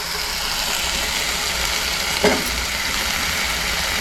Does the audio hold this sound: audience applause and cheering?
no